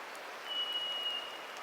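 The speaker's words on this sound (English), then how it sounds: "the raindrops drip" Raindrops drip and patter softly across a rain-drenched redcedar forest, a faint, diffuse wash of wet ticking with a thin steady tone faintly above it, calm and distant-sounding.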